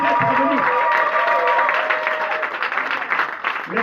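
A church congregation at a seminar in Agen applauds to welcome an evangelist, with dense, steady clapping throughout and a voice speaking over it.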